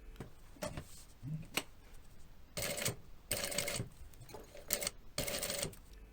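A sewing machine stitching a zipper onto leather clothing runs in several short bursts of rapid mechanical whirring, separated by brief pauses and quieter handling taps.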